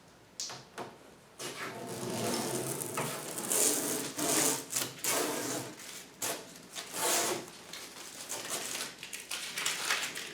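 A saw cuts down a hollow core door with rough, raspy strokes of uneven length. The strokes fade and return, with brief gaps between them, at a moderate level close by.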